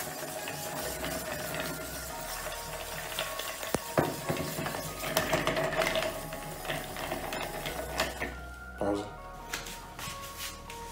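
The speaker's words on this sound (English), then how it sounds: "So make sure your tin is full of ice. A nice gentle stir." Ice stirred gently in a mixing tin full of ice while a gin martini is made, a steady close rattle and clink running under a person talking.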